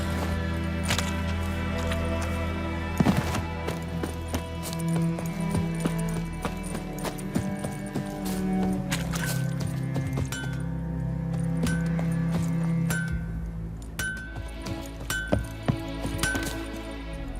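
Roach, the horse in The Witcher 3: Wild Hunt, clip-clops along in a steady hoof rhythm beneath a continuous game music bed, with occasional metallic clinks and chimes scattered through.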